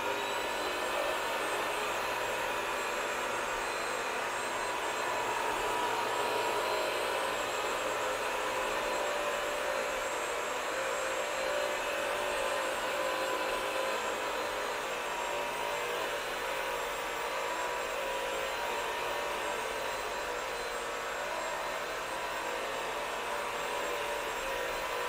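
A Bissell Crosswave Pet Pro wet floor cleaner runs with its water spray on, scrubbing up a sticky juice spill. A steady, loud whirring drone continues unbroken from start to finish, with no talk.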